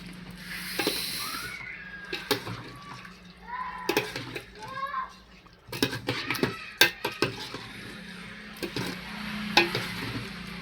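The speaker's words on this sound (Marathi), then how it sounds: "आता आपण पीसेस टाकत आहे त्याच्या आतमध्ये. सगळे पीसेस करून घेऊ मसाल्यांमध्ये." Chicken pieces are stirred into masala in a metal pan, scraping and clinking of the spoon against the pan with wet squelching in bursts, while someone talks over it.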